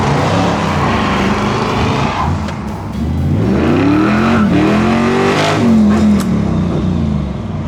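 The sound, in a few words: 1960s Ford Mustang engine revving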